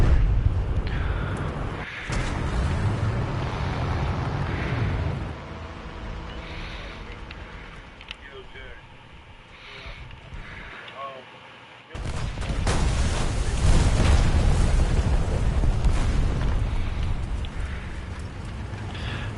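A tank blows up in War Thunder, a heavy booming explosion and gunfire rumble, loud and close, with a quieter stretch in the middle before the blast and roar swell back at full strength.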